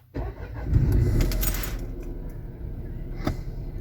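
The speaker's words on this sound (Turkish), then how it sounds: "Şimdi ben arabamı çalıştırayım." An Opel car engine cranks and catches, then settles into a steady rumbling idle, close by and fairly loud.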